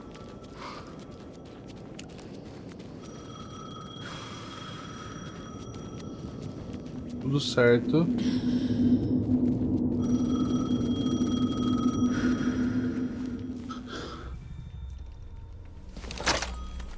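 A telephone rings in the video game Alan Wake II, with repeated electronic ring bursts over a low ambient hum, alongside a few thuds and a brief spoken phrase.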